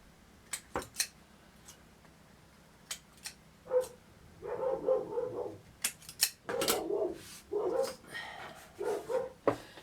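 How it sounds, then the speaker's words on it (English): Dogs barking indoors at home, several sharp barks and yips in irregular bursts, some close and loud, with quieter handling and tapping noises between them. "Sorry if you hear the dogs. They bark at everything these days."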